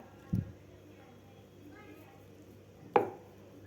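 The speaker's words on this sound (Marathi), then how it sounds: "तुम्ही चौकोनी आकारात किंवा अशा आकारात सुद्धा कापून घेऊ शकता." A knife chops twice through a sheet of dried mango leather (amba poli), cutting it into pieces with two sharp, close thuds on a board about two and a half seconds apart in a quiet room.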